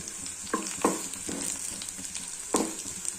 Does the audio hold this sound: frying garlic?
yes